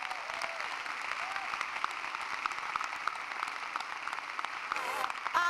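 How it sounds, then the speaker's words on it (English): An audience at a city State of the City address claps in a dense, steady round of applause. It keeps up evenly throughout and swells slightly at the end, with faint voices under it. "So let's give her a round of applause."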